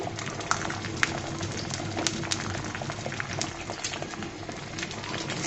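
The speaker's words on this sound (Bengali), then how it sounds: "তেলটা গরম হয়ে গিয়েছে। সম্পূর্ণ ডিমের মিশ্রণটা ঢেলে দিয়েছি।" Egg mixture poured into hot oil and frying, a steady, dense crackle and bubbling sizzle with scattered sharp pops, close and continuous throughout.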